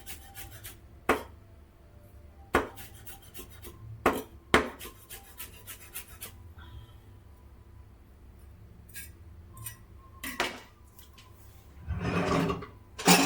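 Sharp chopping taps of a knife on a wooden cutting board while food is minced, irregular clustered strikes with pauses, close and fairly quiet, ending in a brief burst of scraping.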